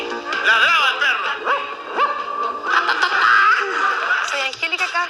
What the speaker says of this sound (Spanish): Ladraba el perro.